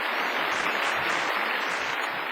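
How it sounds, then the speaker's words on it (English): An audience claps for a team after its presentation, dense steady applause from many hands at close range, continuous throughout the short clip with no talking. "Let's give them a round of applause"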